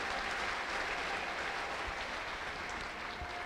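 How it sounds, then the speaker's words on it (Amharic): Steady, dense clapping from a church congregation during an Ethiopian prophet's service, sustained at a moderate level throughout without letting up. "ለጌታ እስቲ አጨብጭቡ"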